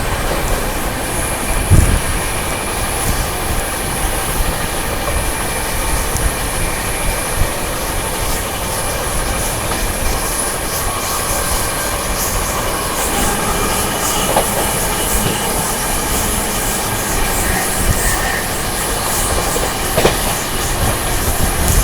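Maharashtra Sampark Kranti Express (12907) running through Bharatpur Junction without stopping. Loud, steady wheel roar and rattling carriages fill the whole stretch, with a high whine above them and a few sharp knocks.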